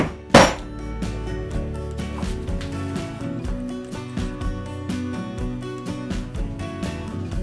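A hammer strikes a punch through leather in a saddler's workshop, one sharp loud blow followed by steady rapid tapping and metallic clinks, close up and with no talk.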